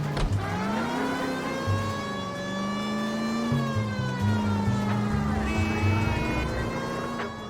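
A car drives in the video game L.A. Noire, its engine rumbling beneath a loud wailing police siren that rises and falls continuously for several seconds.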